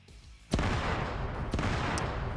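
Battlefield explosions and gunfire from an online PvP war game, with a sudden loud burst followed by a dense, sustained rumble of blasts and shots and a few sharper cracks on top.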